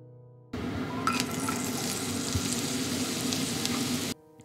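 Rice bran oil heats in a pot on the stove, giving a steady, close frying sizzle with faint hiss. A few small clicks break it before it stops abruptly.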